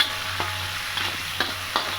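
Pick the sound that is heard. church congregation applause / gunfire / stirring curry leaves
stirring curry leaves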